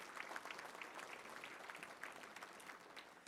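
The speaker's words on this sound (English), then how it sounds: "Let's give them a round of applause for being here with the Razorback Foundation" Brief applause from guests at a touchdown club luncheon, greeting Razorback Foundation representatives: a faint, distant patter of scattered clapping with individual claps popping out, lasting only a few seconds.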